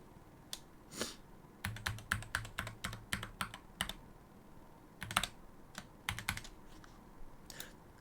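A password being typed on a computer keyboard while setting up a Gmail account: a close, uneven run of crisp keystrokes in quick bursts, with brief pauses between groups of keys.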